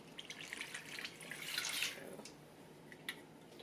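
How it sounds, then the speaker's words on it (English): Water poured from a measuring cup into a cooking pot for beef shell pasta, a steady splashing stream that swells and then tapers off, with a short splash near the end, close and fairly quiet. "So now we're going to add 5 cups of water."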